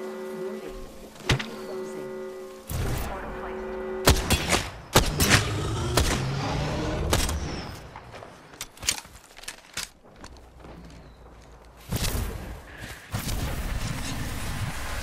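Gunfire in the Apex Legends battle royale game, with sharp shots and thuds scattered in irregular bursts across the stretch, loud and close, mixed with other game effects and no talking.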